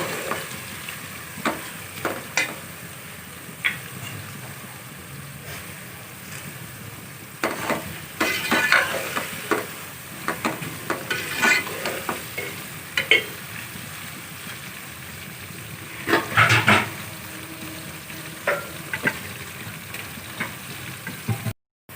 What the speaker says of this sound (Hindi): ये देखिए प्याज हल्की ब्राउन हो रही है